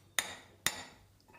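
Two sharp metallic hammer blows strike the plunger of a handmade cow dung briquette press, spaced about half a second apart, each ringing briefly before fading into quiet.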